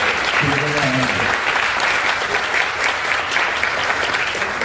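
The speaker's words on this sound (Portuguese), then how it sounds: "Uma salva de palmas para ela saber." Crowd applause at a women's event, loud continuous clapping filling the room, with a few brief voices and cheers near the start.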